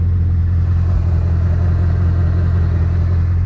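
Bugatti Chiron 1500 hp engine running steadily, a loud continuous low rumble with strong deep harmonics, close and constant with no talk.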